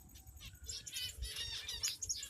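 Zebra finches and Java sparrows in a caged colony flutter their wings and give quick high chirps and tweets, close and fairly quiet, with no talking over them.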